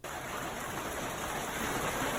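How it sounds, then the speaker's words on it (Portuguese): Intense hail pelts down in a dense, steady roar of impacts, loud and continuous with no voices. "This is the most intense hail I've ever seen."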